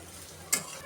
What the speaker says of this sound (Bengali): এখন আমি ভালো করে আবার কষিয়ে নেব।